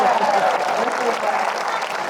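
A round of applause from the audience at a live panel discussion, steady dense clapping held at an even level for the whole stretch.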